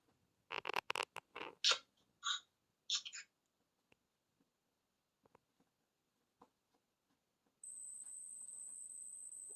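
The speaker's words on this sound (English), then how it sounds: "cricket or something all of a sudden was making this high-pitched noise" A steady, thin high-pitched chirr starts near the end and holds continuously, preceded by scattered clicks and soft tapping in a quiet room.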